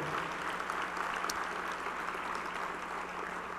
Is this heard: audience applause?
yes